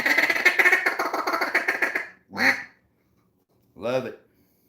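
A hand-blown duck call mimics ducks with a rapid run of raspy quacks, then two separate drawn-out single calls after short silences, close and clear with no other sound.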